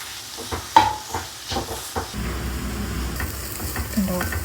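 Sliced onion sautéing with fennel seeds, crushed garlic and salt in a new Ember Benares Gold kadai, a close sizzle with stirring scrapes and knocks that grows fuller and steadier partway through.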